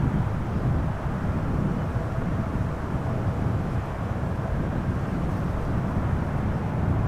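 An airliner arriving on approach at Amsterdam Schiphol Airport, with a steady, broad rumbling roar of jet engines that holds at a moderate level throughout, with no talk.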